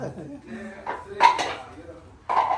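Dishes, pots and cutlery clatter and clink in a home kitchen, several close metallic knocks and scrapes in irregular bursts, with some voices nearby.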